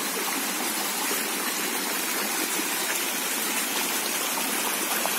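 Steady rushing and gurgling of a flowing stream with plenty of water after rain on farmland, a continuous broadband wash heard close and alone with no voices.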